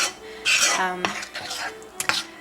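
A utensil clinks and scrapes against a bowl while flour is stirred into the liquid batter for chocolate oatmeal zucchini cookies, several brisk close strokes with sharp metallic knocks.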